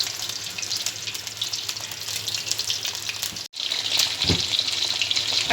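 Small chicken pieces frying in hot oil give a steady, fairly loud sizzle with a brief dropout midway, then the bubbling crackle resumes.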